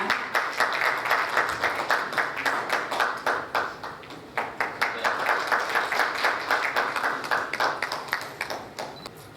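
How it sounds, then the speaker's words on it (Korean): An audience at a community gathering claps in a steady stream of distinct, close hand claps, sustained for several seconds as a speaker is welcomed, with no talking over it. "큰 박수로 맞아주시기 바랍니다"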